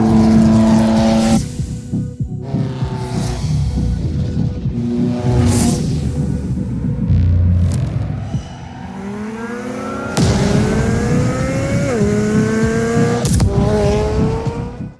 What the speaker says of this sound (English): this thing sounds like no Corvette I've ever heard